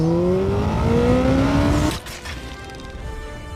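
A naked motorcycle's engine rises in pitch under acceleration on a narrow road, then cuts off abruptly as the rider shifts, leaving a lower steady drone with wind noise.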